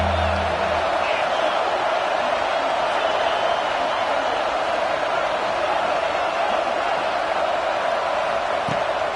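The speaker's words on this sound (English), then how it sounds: "Man, this crowd really affecting the football game." A home crowd cheers at a football game, a dense, continuous roar of many voices and whoops heard from a distance without pause.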